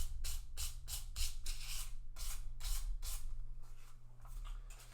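Light strokes of 600 grit sandpaper across guitar fret tops, a rapid run of short rasping swipes, close and soft, with no talking.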